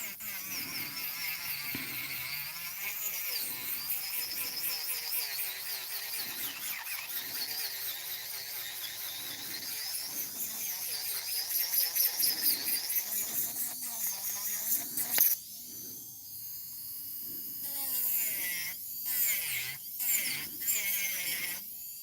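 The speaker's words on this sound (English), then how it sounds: "I'm concentrating on filing" An electric nail file works on acrylic nails during an at-home bridal manicure. A steady, high, whining buzz rises and falls in pitch as it moves over the nails, with faint talking mixed in.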